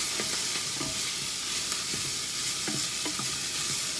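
Broccoli and lobster lo mein noodles sizzle and hiss steadily in a hot pan, with scattered clinks and scrapes of stirring throughout, no voices.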